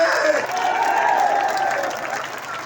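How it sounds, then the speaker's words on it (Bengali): A large crowd at a political rally in Satkhira claps and cheers in a dense, continuous roar that fades slightly toward the end. "এই লোকগুলো বলতে হাত তালি দেন করতালি দেন"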